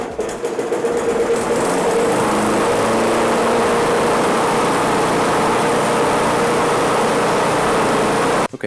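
A lawn mower engine runs steadily at high speed after a short start, a loud, close, continuous buzzing drone that cuts off abruptly at the end, with no talk.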